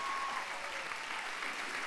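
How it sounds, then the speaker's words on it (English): Applause from an audience at an onstage talk event with US Secretary of State John Kerry in Berlin, a dense, steady wash of clapping that fills the whole moment with no break. "let's hear applause"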